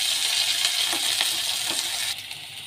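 Bitter gourd slices fry in hot oil for a Bengali shukto, giving a steady close sizzle and crackle with a few soft stirring scrapes before the bubbling eases slightly near the end.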